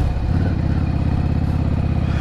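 A 2003 Yamaha Drag Star 650 motorcycle on a test ride, its engine pulsing in a steady, throaty low thrum as it accelerates, loud and close with wind noise.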